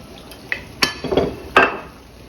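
Shrimp and broccoli being stirred and tossed in a garlic sauce in a pan, with a few separate clinks and scrapes of a utensil against the cookware over a soft simmer, no voices.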